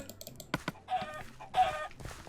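Chickens clucking in the Minecraft FarmHunt hide-and-seek game, two short bursts of clucks with quick clicks between them, close and clear with no talk.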